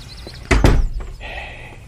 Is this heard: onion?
no